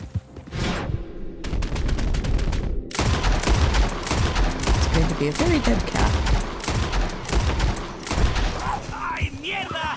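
Rapid gunfire from a shootout in Red Dead Redemption 2, with dense volleys of overlapping shots and booms running almost the whole time, loud and close, while voices talk over the shooting.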